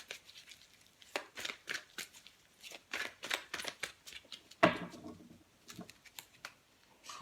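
A tarot deck is cut and handled by hand: a run of crisp, papery card flicks and soft slaps in an uneven rhythm, with one sharper snap midway, close and fairly quiet with no talking.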